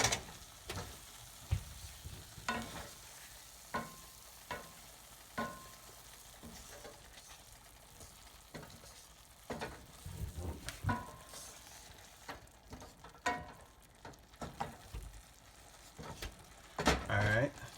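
Creamy risotto simmers and is stirred in a pan, soft scraping and bubbling with irregular clinks of the spoon against the pan, fairly quiet and close, while a person talks at times.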